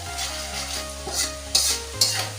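Chopped garlic stir-fried in a hot pan, with continuous sizzling and frying and a couple of sharp scraping stirs of the utensil against the pan, with no voices.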